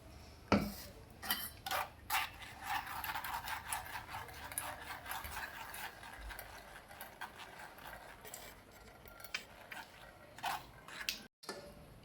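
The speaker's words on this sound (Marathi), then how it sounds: "बारीक केलेला ज्यूस आपण गाळणीने एका भांड्यामध्ये गाळून घेऊया" Blended guava juice, ground with bedgi chilli masala, is strained through a metal sieve into a vessel, giving quiet, irregular clinks and scraping ticks of utensil against mesh and pot, with no speech.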